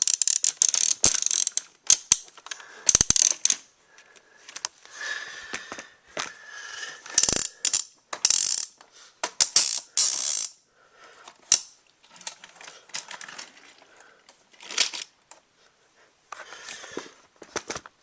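A TOMY toy railway turntable mechanism turns with irregular clicking, ratcheting and plastic gear rattles, close and fairly loud, in short bursts separated by brief pauses, with no voices.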